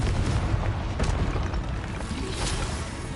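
A Confringo blasting spell explosion in the video game Hogwarts Legacy, a loud booming burst with rumbling blast noise that fills the short moment.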